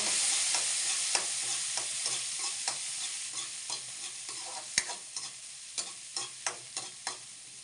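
Onions and garlic fry in a pan with a steady close sizzle, punctuated by a rhythmic series of sharp utensil scrapes and taps as the mixture is stirred, with no one speaking.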